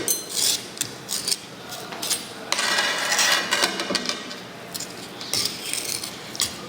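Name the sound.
mixing thick soil paste with a spatula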